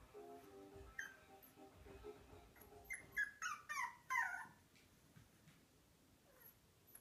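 A Pomeranian puppy facing its reflection in a mirror gives a short burst of high, thin whimpers and yips, close and fairly quiet, with soft voices earlier.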